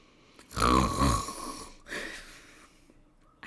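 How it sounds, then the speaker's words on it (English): A person snoring loudly nearby, two long rasping breaths with a rattling drone, the second weaker than the first. "snoring is louder than a saw bill"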